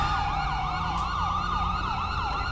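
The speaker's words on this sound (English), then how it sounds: "Already sirens." Several emergency vehicle sirens wail in GTA 5 police roleplay, rising-and-falling tones overlapping steadily and loudly with a low engine rumble beneath, no talking.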